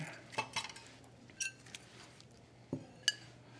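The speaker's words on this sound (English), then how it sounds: "let's get some bowls out here" Ceramic bowls taken out and set down in a home kitchen, a few light clinks and knocks scattered over a few seconds, fairly close and quiet, with no talk.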